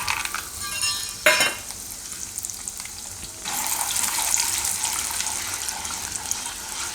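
Peanuts dropped into hot oil in a pan over a lowered gas flame for curd upma: a sharp clink, then a steady, bright sizzle that starts suddenly and continues evenly, close by.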